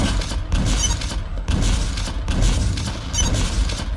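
Repeated booming explosion effects in a video game, heard through a Logitech G633 headset, burst roughly every second, each a loud thud with crackling debris, in a game-like barrage.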